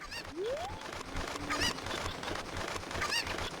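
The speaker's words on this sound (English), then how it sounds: "Trying to click on a chicken that's running away from me." Chickens in the game Zelda: Ocarina of Time give repeated squawking, honk-like calls that rise in short bursts over a busy, dense background of game sound, fairly loud and close.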